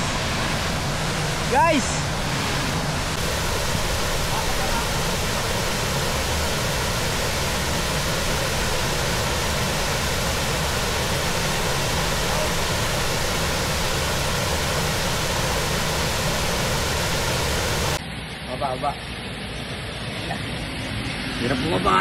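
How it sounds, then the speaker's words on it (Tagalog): A hidden waterfall in Luisiana, Laguna, roaring loudly and continuously up close, with a person calling out briefly over the constant rush of water. "Ito na, hidden falls!"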